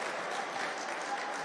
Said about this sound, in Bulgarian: Аплодисменти тук от зрителите в залата за тази атрактивна изява на Бунгародаме.